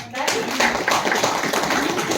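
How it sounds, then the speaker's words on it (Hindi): A school presentation audience claps for themselves, a dense, loud wash of many hands over about two seconds with a voice heard faintly underneath. "और अब मैं एक चाहूंगी आप सभी लोग अपने आप के लिए एक बिग क्लैपिंग करें"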